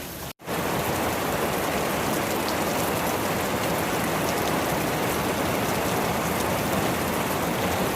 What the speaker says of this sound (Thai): ปริมาณฝนก็ยังคงตกอยู่เรื่อยๆนะครับ